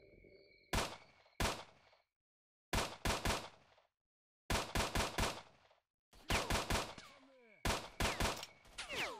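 Semi-automatic pistol firing in S.T.A.L.K.E.R., loud sharp shots in rapid bursts of two to five separated by brief pauses, with faint metallic ringing between them.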